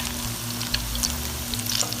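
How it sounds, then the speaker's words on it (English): Latkes fry in a pan of hot oil with a steady, close sizzle and small crackling pops throughout, and nobody talks over it. "So these have been frying for several minutes"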